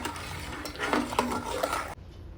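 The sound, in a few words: stirring milk on high flame for palkova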